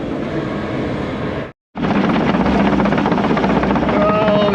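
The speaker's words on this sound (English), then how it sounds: "Let's get one final drone flight here at the end of the day." A drone flying over an excavation job site at the end of the day gives a steady, loud rotor whir that briefly cuts out and then resumes close by, with faint talk underneath.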